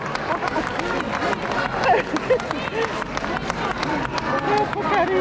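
Rhythmic clapping from an audience keeps time for a dancer at the Festa del Redentore in Nuoro, Sardinia, steady beats amid crowd chatter, with nearby voices talking over it.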